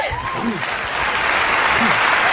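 Dense, sustained applause from a packed studio audience at a radio show, steady and loud throughout, with faint voices underneath.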